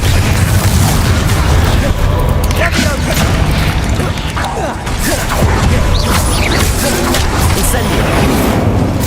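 A Confringo blasting curse erupts in Hogwarts Legacy amid dense, continuous booming blasts and mechanical clatter, loud and sustained throughout, with a voice talking over the din.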